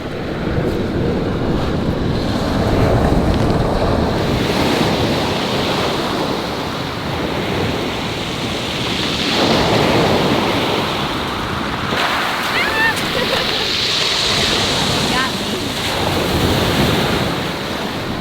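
Surf rolling onto a beach on San Juan Island, a steady wash of breaking waves with gusting wind buffeting the microphone, swelling and easing in slow surges throughout.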